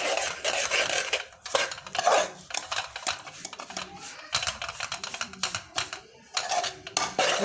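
Semolina roasting in a pan for suji barfi on a low flame, a spoon repeatedly scraping and stirring against the metal with irregular clinks and rasps, close and fairly loud, with no talking.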